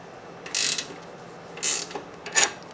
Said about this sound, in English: we're going to pull the pinch bolt off for the coilover. So it's going to be an 18 millimeter,